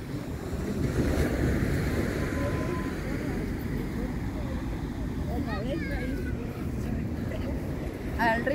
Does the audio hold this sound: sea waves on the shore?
yes